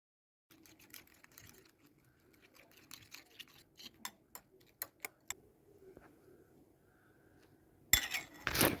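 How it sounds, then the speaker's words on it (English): A fork stirs an egg mixture in a bowl, making light, irregular clinking taps that grow into a few sharper clicks, followed by a louder rustle at the end. "we're going to be giving this a stir with a fork"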